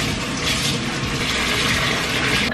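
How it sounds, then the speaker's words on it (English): Running water pouring steadily from a kitchen tap as a pan is rinsed under it, a continuous close hiss and splash with no voices. "I'm gonna open this up and we're gonna rinse it off."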